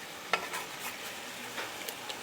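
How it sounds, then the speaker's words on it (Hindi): Chicken pieces sizzling in a hot pan over high heat, a faint steady frying hiss with a few soft clicks and stirs. "हमें चिकन को तुरंत नहीं पलटना, थोड़ा सीजल होने देना है"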